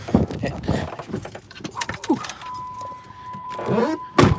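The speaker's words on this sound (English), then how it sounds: "I don't need to put the keys in, don't do that." Car keys jangle in bursts of bright metallic clinks inside a car on a rainy day, close to the listener. A steady electronic tone chimes partway through.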